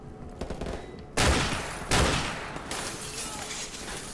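Gunfire in Call of Duty Modern Warfare Remastered, bursts of loud rapid shots with a couple of heavy blasts standing out, close and dense over a few seconds.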